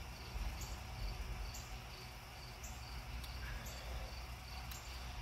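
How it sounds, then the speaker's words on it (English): Faint, steady insect chirping outdoors, with a few repeated high trills over a soft background hiss; no one speaks. "The bugs. They just love ruining my videos."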